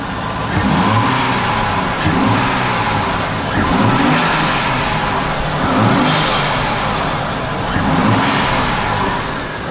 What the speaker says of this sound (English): So you can actually hear the bypass valve better.